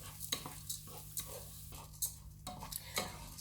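Risotto rice being stirred through melted butter in a pan, a spoon scraping and clinking in bursts over a soft steady sizzle, close by with no talking.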